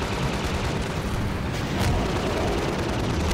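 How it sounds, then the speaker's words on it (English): Rocket launcher explosions in the co-op video game Half-Life 2 Synergy, a dense continuous roar of blasts and rumbling booms with no clear gaps, loud and close. "Good thing they're giving us infinite rockets."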